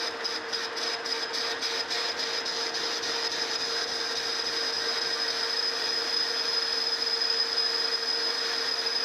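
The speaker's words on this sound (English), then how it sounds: "I'm just going to a 50 thousandths depth of cut now" A New Haven metal planer taking a 50-thousandths-deep cut, a steady close mechanical whine with a sustained tonal hum and a rapid ticking rattle early on, continuous at even loudness throughout.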